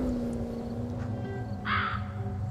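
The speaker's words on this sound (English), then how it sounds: "You see, a crow does that," A crow caws once, loud and close, partway through a steady ambient background in the video game Undawn.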